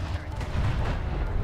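Railgun fire from a Soban mass railgun in the real-time strategy game Homeworld: Deserts of Kharak, heard as a dense burst of booming, rumbling shots, loud and close over a continuous battle roar.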